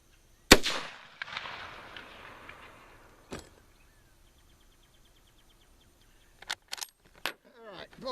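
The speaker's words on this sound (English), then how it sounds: "bolt open" Spanish Mauser Model 1893 rifle at an outdoor range: a sharp report, then metallic bolt clacks and clicks near the end, with a person speaking briefly.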